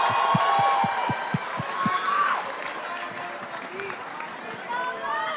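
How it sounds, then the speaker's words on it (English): Audience applause fills an esports arena at a Mobile Legends playoff match, with a sustained roar of clapping and crowd noise and a few sharp thumps early on, while an announcer speaks over it. "let's give Falcons APBren a big round of applause"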